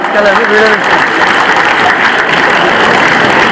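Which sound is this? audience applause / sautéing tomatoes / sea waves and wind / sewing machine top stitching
audience applause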